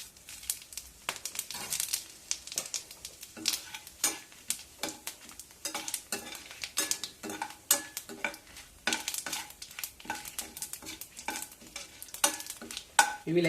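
Cumin seeds and a bay leaf sizzle in hot oil in a pan while a spoon stirs and scrapes repeatedly, producing a steady crackling fry with rhythmic scraping knocks.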